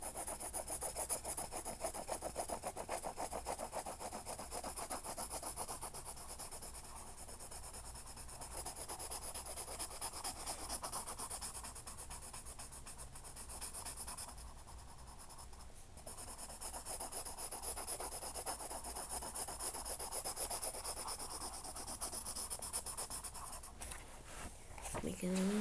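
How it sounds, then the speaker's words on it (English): A pencil rubs back and forth on paper, shading a drawing, a close, steady scratchy rasp of repeated strokes that continues with only short pauses. "You get your pencil and just kind of like make it a little shadow."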